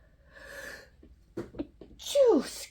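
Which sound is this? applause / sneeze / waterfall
sneeze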